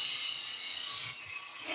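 A woodworking hand plane takes long shavings off a board while making a robot incense burner: a close, steady hissing scrape that eases off partway through, with no voices.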